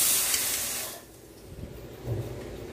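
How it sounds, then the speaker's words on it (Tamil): Tamarind and onion gravy with elephant yam boils in a pot, opening with a loud steamy hiss that drops away to a softer, steady low bubbling and simmer. "இப்போ கொதிக்கட்டும், நம்ம பார்ப்போம்"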